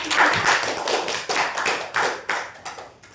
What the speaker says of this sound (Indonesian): Beri tepuk tangan untuk hari ini